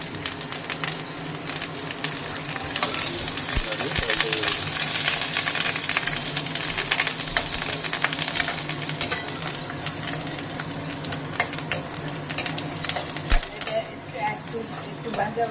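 Curry leaves, green chilli and ginger sizzle in hot oil in a pan, a loud continuous crackle broken by scraping and clinking as the spoon stirs, with a few sharp taps against the pan.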